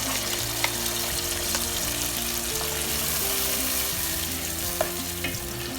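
Steady sizzling of a pepper, tomato, onion and ginger mix frying in a pot for jollof rice, with occasional stirring clinks and scrapes, continuous and fairly loud throughout.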